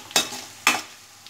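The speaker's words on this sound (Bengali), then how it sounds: "2 মিনিট পেঁয়াজটা ফ্রাই হয়ে গেছে" Onions fry in a pan for a dhaba-style paneer dish, heard as two short stirring swishes over a faint sizzle, fairly quiet and close.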